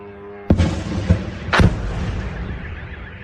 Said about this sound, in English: Local residents published a video capturing the moment of an attempt to shoot down one of the UAVs.